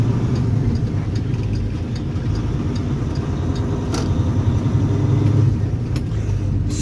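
A car engine rumbles steadily from inside the cabin as the car pulls away after a green light, a continuous low drone with a slight rise in the last seconds and no talk.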